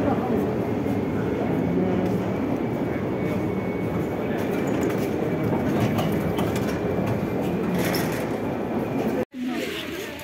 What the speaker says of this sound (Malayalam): ഇതാ മെട്രോ സ്റ്റേഷൻ ഞങ്ങൾ വന്നിറങ്ങിയത്.